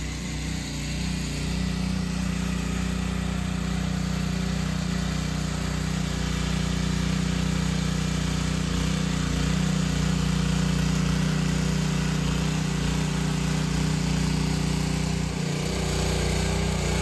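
A small digging machine churns up backyard ground to level it, giving a steady, loud mechanical drone with a low engine hum that runs continuously without a break.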